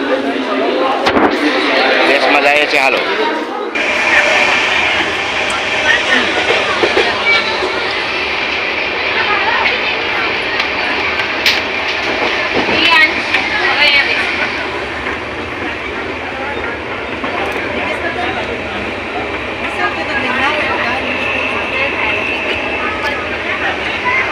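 Crowded Borivali railway station platform ambience with a steady roar of trains and rail noise, many voices chattering, and occasional clanks and slams throughout.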